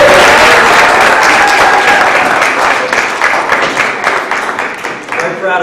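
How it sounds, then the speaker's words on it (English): A board of education meeting audience applauds students, a loud burst of dense clapping from many people that holds for several seconds and then gradually tapers off. "One more round of applause, ladies and gentlemen."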